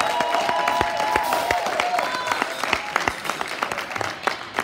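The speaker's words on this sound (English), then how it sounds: "give us a round of applause." Applause from a church congregation at a Father's Day revival service, many hands clapping in a steady dense patter that runs throughout with some crowd noise.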